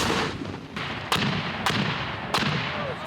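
Rifle shots ring out during military shooting drills, three sharp cracks spaced roughly half a second to a second apart over a dense, noisy outdoor background.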